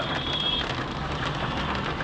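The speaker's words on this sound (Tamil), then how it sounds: "இப்போ பாருங்கள், நல்லா மழை பெய்ய ஆரம்பிச்சிருச்சு." Heavy rain falls during a drive on the Yercaud loop road, a dense, steady hiss of drops with no break across the moment.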